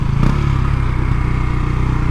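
KTM Duke 390 motorcycle fitted with a 56-tooth rear sprocket, engine held at a loud, steady, buzzing rev during a second-gear power wheelie, close up.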